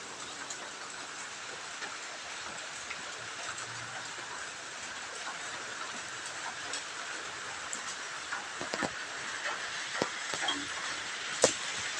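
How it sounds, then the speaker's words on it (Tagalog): Steady broadband hiss of rain falls continuously, with occasional louder drips and taps landing nearby toward the end. "Maghapon to ulan."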